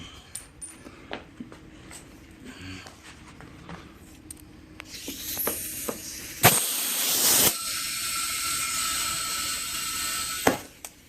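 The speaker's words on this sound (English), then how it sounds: "That's my air hose leaking, it's not the tire." Air escapes from a leaking compressor hose in a tire shop, a steady loud hiss that swells in bursts after a stretch of quiet clicks and clinks of handling.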